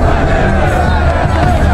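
A loud prison crowd of inmates roars and cheers around a duel in an arena, a dense continuous wash of voices with no single speaker standing out.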